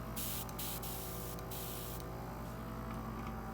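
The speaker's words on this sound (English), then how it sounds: "So if you remember, that's the compressor." An airbrush compressor runs close by with a steady hiss and low motor hum, with brief bursts of air spray breaking through, and no talking.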